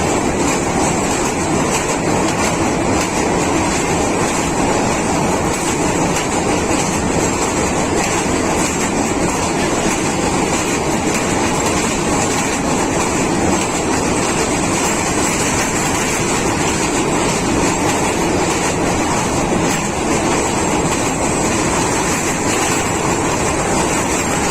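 The Subak Kharam passenger train runs fast on rails in Pakistan, giving a continuous dense roar with rumble and clatter that holds steady throughout.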